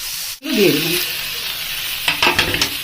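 Ground coriander, cumin powder and chillies hit hot oil in a pan and sizzle loudly after a brief gap, then a steady frying hiss continues with scraping stirs and light clinks near the end.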